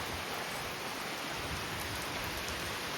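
Heavy monsoon rain pours steadily in Konkan, a dense, even hiss of drops hammering a roof and ground, loud and continuous with no voices.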